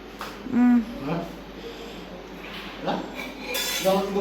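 Pots and dishes are washed with intermittent clinks and clatters of metal, one sharp ringing knock standing out, while people talk nearby.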